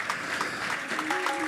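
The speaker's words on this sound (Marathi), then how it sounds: "खरंच जोरदार टाळ्या" Audience applause at an award ceremony for unsung everyday heroes, a steady wash of many hands clapping throughout, moderately loud and continuous, with a faint tone creeping in near the end.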